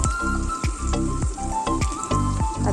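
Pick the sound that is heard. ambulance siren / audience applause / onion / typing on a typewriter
onion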